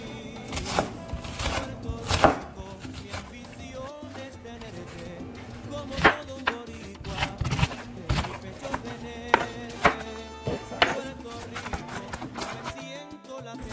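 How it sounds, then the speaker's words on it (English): Vegetables are chopped into small cubes for sofrito with a knife on a cutting board, giving irregular close knocks and taps that run steadily, with some faint talk in the background. "Just cut them down into little cubes"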